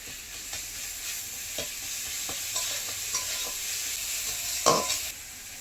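Garlic added to fried onions sizzles quietly in a pan, with several distinct spoon scrapes and stirring knocks spaced through the sizzle and a louder stir near the end.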